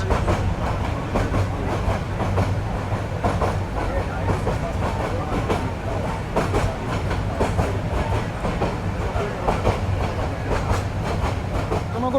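Cox's Bazar Express passenger train on its run from Chittagong to Dhaka, rolling along the rails with a steady, loud rumble and a continuous clickety-clack of wheels over the track joints, with no voices.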